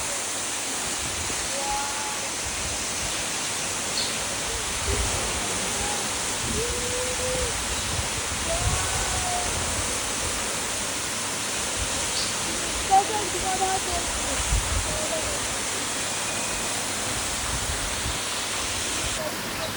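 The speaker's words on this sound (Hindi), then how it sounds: "बालकनी से आपको इसका मनमोहक दृश्य, वाटरफॉल इतना नज़दीक" Waterfall beside a hotel balcony in the Munsiyari area, a continuous loud rushing roar of falling water with faint voices and a few bird-like chirps mixed in.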